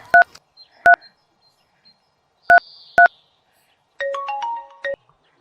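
Phone keypad tones beep one at a time in short separate presses, then a ringing tone trills for nearly a second, all clear and close in an otherwise quiet room.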